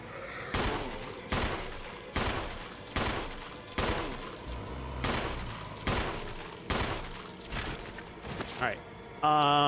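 Gunfire in Resident Evil Remastered: about ten loud, evenly spaced shots from a single gun, each with a short ringing decay, ending in a burst of game sound.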